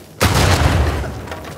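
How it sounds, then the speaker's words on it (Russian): A sudden heavy boom bursts in and rumbles on with a dense, roaring wash of noise, loud and close: exploding mummies in Uncharted 4: A Thief's End. "Черт. Опять взрывающиеся мумии."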